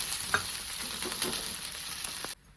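Thalipeeth flatbread frying in a little oil in a pan, a steady close sizzle with a few faint ticks and scrapes, cutting off abruptly near the end.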